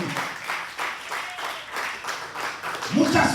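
A church congregation claps in praise during a Spanish-language sermon, rhythmic repeated claps under a preacher's voice and swelling louder toward the end.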